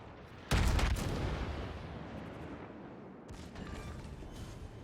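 Naval artillery fire in World of Warships: one sudden heavy boom opens a broad rumbling blast that slowly decays, followed by a fainter second volley of distant shots.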